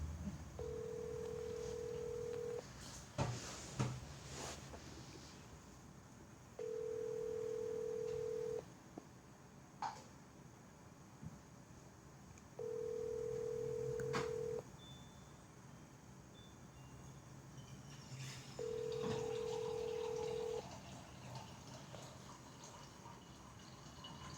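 Ringback tones of a phone call being placed, four evenly spaced steady beeps about two seconds long separated by pauses, over low background hiss and faint clicks.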